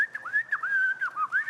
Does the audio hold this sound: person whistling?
yes